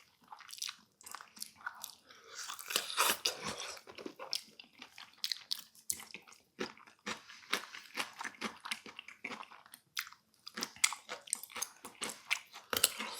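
Crunchy chewing of carrot and boiled Korean pork feet (jokbal), heard close up as repeated bites and crunches in an uneven rhythm, with no talk over them.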